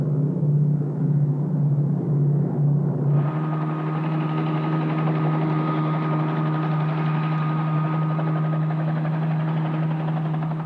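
A helicopter in flight over the Yucatán coast, heard as a continuous loud rotor and engine drone with a low pulsing hum that shifts slightly in tone partway through, steady throughout with no talking.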